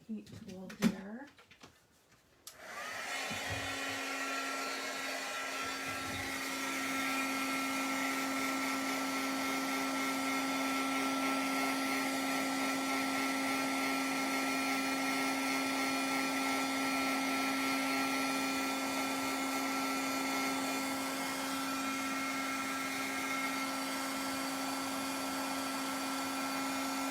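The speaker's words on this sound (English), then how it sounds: "let me just bring in my heat tool here" A heat tool blows hot air over white embossing powder on a stamped card, a steady loud whirring drone with a constant hum that starts abruptly after a brief knock and runs unbroken to the end.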